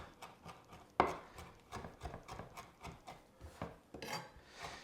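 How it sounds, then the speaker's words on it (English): Fresh rosemary leaves are chopped with a knife on a board, a quiet, steady series of quick close taps and cuts at an even rhythm. "And I just chop the little leaves this way."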